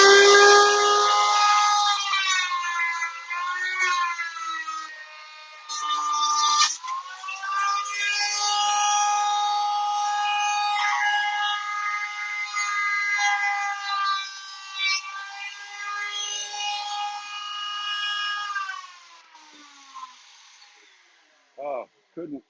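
A router bit spins on a horizontal router table, cutting a raised panel with a loud, sustained high whine that rises and dips as the wood is fed through, then winds down and stops.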